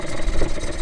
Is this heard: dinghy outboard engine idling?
yes